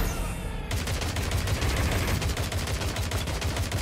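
Dense rapid gunfire from a Watch Dogs Legion boss fight, loud sustained bursts of automatic shots stuttering continuously after a brief quieter start.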